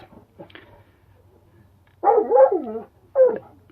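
German Shepherd wolfdog puppies give a few soft yips early on, then two louder, wavering whimpering barks close by, with quiet gaps between them.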